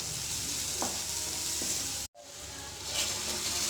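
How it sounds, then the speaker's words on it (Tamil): Tomato chutney sautéing in a pan with salt and chili powder, a steady close sizzle and frying hiss with light stirring scrapes, interrupted by one brief cut of silence. "தேவையான அளவு உப்பு, தேவையான அளவு மிளகாத்தூள், கொஞ்சோண்டு மிளகாத்தூள் போட்டு அதையும் கொஞ்சம் நல்லா வதக்கிட்டு"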